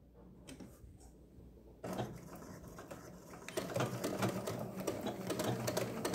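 A sewing machine stitching a straight line through patchwork fabric, starting quiet then running in a rapid, steady mechanical chatter that grows louder, with no talk.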